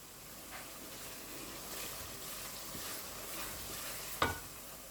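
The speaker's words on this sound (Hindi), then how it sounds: "अब हम इसको ना अच्छी तरह भुनाई करेंगे इसकी मसाले की" Masala for a restaurant-style mixed vegetable dish roasts in a pan with a faint, steady sizzle, broken by one sharper scrape of the stirring spoon near the end.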